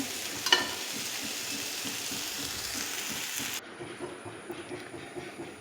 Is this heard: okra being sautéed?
yes